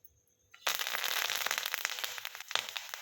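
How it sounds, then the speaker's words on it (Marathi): Curry leaves hit hot oil in a pan with a sudden burst of loud, dense crackling and spitting that stays steady for a few seconds, with sharper pops near the end. "आता तेल तापलेलं आहे। आता आपण यामध्ये कांदा घालूया। पहिल्यांदा थोडासा कढीपत्ता टाकायचा आहे।"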